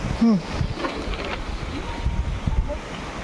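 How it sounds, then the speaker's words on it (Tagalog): Gusty wind roars and buffets the microphone, with a brief voice and a few faint knocks mixed into the rushing noise. "Sobrang mahangin dito."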